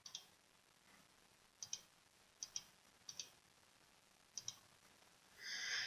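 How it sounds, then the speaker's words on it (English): Computer mouse buttons clicking in a quiet room, several paired clicks spaced irregularly, crisp and close, with no talk; a brief rustle swells at the end. "selecting that category and right-clicking for those options"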